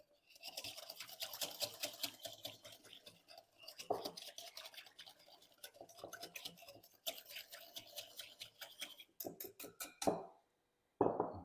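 A utensil briskly stirs oil and salt in a small bowl, producing rapid rhythmic scraping and clicking in close bursts, pausing briefly between rounds, with no talk.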